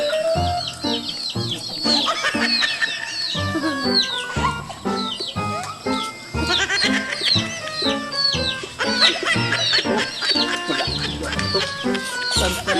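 Busy poultry yard with overlapping clucks and quacks, birds calling repeatedly and close, a dense rhythmic chorus throughout with faint voices mixed in.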